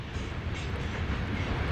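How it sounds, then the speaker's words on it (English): A BNSF grain train rolls past nearby under an overcast sky, a steady broadband rumble of rail cars and wheels holding at constant loudness throughout, with no voices. "Yeah, this is definitely that BNSF grain train to catch about once a week."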